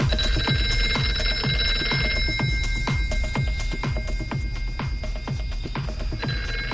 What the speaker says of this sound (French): Téléphone, il faut le trouver.